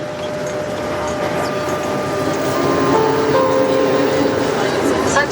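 A Lyon metro train rumbles along with a steady roar and rising motor whine tones, voices murmuring in the background of the carriage.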